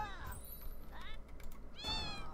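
Cats in the video game Fowl Space meow several times in short, rising calls, with game sounds and a low background hum underneath.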